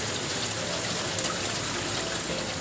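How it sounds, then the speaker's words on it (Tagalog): Heavy, steady downpour hiss, unbroken and loud throughout, like rain pounding on a roof or surfaces outside a small kitchen during the rainy season. "kapag talagang ganitong na umuulan, na walang tigil ng ulan"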